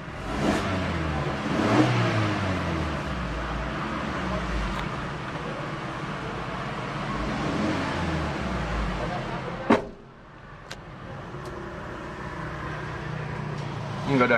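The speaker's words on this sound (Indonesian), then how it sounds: "Ini dia suara mesinnya." Engine of a 2021 Suzuki Carry Wide Deck pickup running steadily and fairly close, with a couple of revs early on and a short dip near the end, while a person talks over it.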